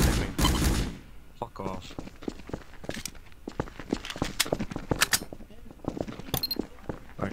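Rapid gunfire from a crowd shootout in Garry's Mod, a World War II roleplay server: sharp bursts and scattered shots crackle close by, with a heavy volley at the start, footsteps mixed in, and a voice speaking over the shooting.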